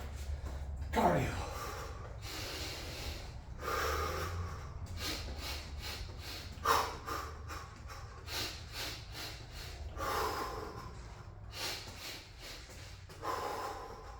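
A person breathing heavily during a garage workout, repeated loud snorting exhales and gasps in an uneven rhythm, close to the microphone, with some voice sounds mixed in.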